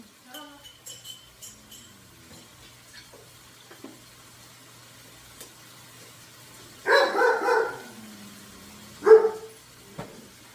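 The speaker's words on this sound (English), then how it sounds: "there's a disturbance in the forest, so the dog just bark." A dog barks in the forest in a short burst of several loud, close barks, then one more bark a moment later, after a stretch of quiet clinks and faint background sounds.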